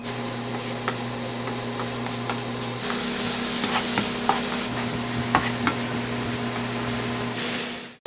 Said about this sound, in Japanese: 透明になるぐらいというか、生感なくなるぐらい炒めてひき肉入れます